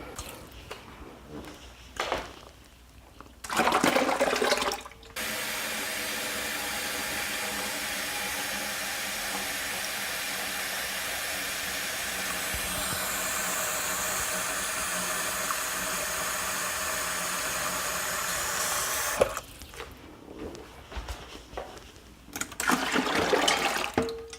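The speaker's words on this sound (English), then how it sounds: "all I need to do is fill this bucket with water" Water runs from a tap into a bucket as a steady, loud rushing pour lasting about fifteen seconds, its tone shifting slightly as the level rises, with brief talk before and after.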